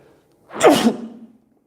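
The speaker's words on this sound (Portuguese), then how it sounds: "a cada 3 horas um espirro" A single sharp sneeze bursts out close to the microphone, with a quick trailing breath afterward, then quiet.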